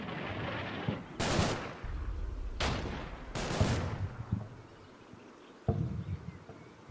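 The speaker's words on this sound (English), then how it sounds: "Good machine gun fire. Especially coming from the light machine gun, not a heavy." Light machine gun bursts in the WWII game Combat Mission: Battle for Normandy, three loud sharp rattling bursts of roughly a second each, then a fainter distant crack, over a quiet low background.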